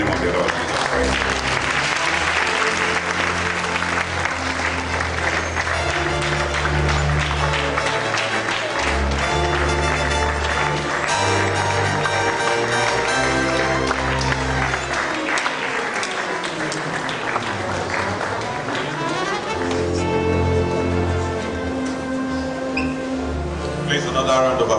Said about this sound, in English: Another round of applause for our inaugural lecture